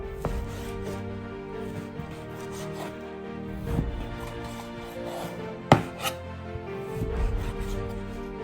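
A knife slices raw chicken breast into nugget-sized pieces on a cutting board, with soft rhythmic cuts and rubbing and a few sharper knocks against the board, close and fairly quiet.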